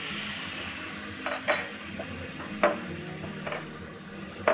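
Paneer with soy sauce, vinegar and Chinese salt is stirred in a hot pan. A soft continuous sizzle sits under several sharp spoon-on-metal scrapes and clinks spaced a second or so apart, with no voices.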